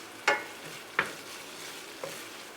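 Whole cumin and fenugreek seeds fry in hot oil with a soft, steady sizzle, broken by three brief scraping stirs that sound close by.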